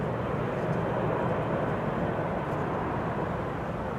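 Roar of an aircraft landing at Schiphol's Kaagbaan runway 06 with thrust reversers deployed, heard as a steady, broad rushing rumble at moderate level that holds throughout without a break.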